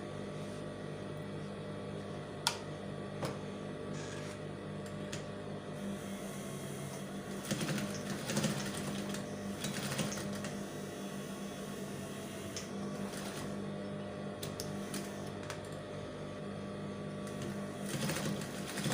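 A sewing machine runs steadily, stitching a fabric strip onto a standing bow with multiple passes, a continuous close motor hum with small clicks and slight surges in speed.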